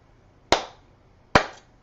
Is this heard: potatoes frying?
no